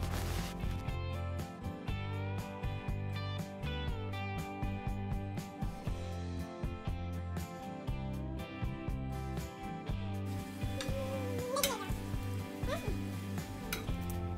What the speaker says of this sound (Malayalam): ഇനി ബാക്കിയുള്ളതും ഇതുപോലെ ഫ്രൈ ചെയ്തെടുക്കുന്നുണ്ട്.